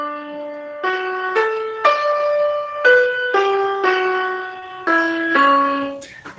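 A clean synthesized melody stem for a music experiment plays a simple tune of sustained single notes, about a dozen in steady succession. It sounds alone, with no talking over it.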